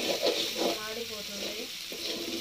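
Okra (bendakaya) fries in a pan while being stirred, giving a soft, steady sizzle with scraping stirs, close and quiet, as a voice talks over it.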